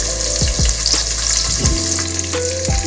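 Sliced onions, green chillies, fennel and cumin sizzle in hot ghee in a pan, a dense, steady crackling fry with a few scraping stirs of a spoon close by.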